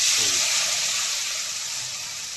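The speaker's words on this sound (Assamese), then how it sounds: "এইখিনি ভালকৈ ভাজি ল'ব লাগিব এবাৰ" Onion, tomato, garlic and ginger masala gravy frying in a little oil, giving a steady close hiss and sizzle that stays even and fairly loud throughout, with a faint low murmur underneath.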